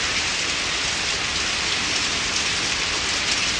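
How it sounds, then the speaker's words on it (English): Steady rain falling on a porch roof and running through a gutter, a dense continuous hiss of drops with no voices, moderately loud and close. "You can see the rain like it's even like stronger off camera"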